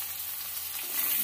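Potatoes frying in a pan as a Bengali fish curry with bori and new potatoes begins, stirred briefly; a steady close sizzle runs throughout, growing slightly louder near the end, with no voices.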